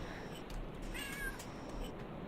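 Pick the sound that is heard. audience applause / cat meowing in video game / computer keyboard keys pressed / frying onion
cat meowing in video game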